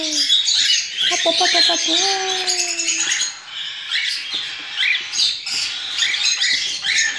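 Baby lovebirds chirp and squeak busily while being hand-fed, their high, rapid calls mixed with a person's coaxing voice.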